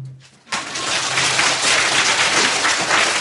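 Congregation applauding during a Christmas Eve church service, a dense, loud, sustained wash of clapping that starts abruptly after a short quiet moment and carries on without pause.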